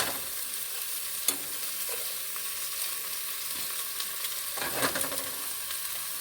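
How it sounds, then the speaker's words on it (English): Vegetables for a beef stew being shaken and stirred in a pot, giving a steady rustling wash with a few sharper knocks against the pot and no talking. "Shake it around, it's so much easier to stir them."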